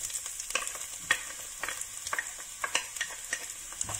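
Onion frying in oil in a pan, a steady crackling sizzle with scattered sharp pops and spits throughout, close and fairly quiet, with no talking.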